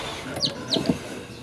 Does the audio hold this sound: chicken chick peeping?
yes